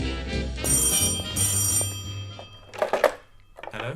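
A telephone rings with a bright, sustained bell tone in two long bursts, followed by a shorter clattering ring, set against a low musical drone in a dramatized historical scene.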